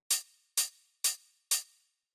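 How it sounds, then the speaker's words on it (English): Four crisp Roland 909 hi-hat hits, shortened, each a bright noisy tick with a quick fading tail, evenly spaced about half a second apart, close and clean with nothing else behind them. "And so what this is it's this 909 hi-hat sample."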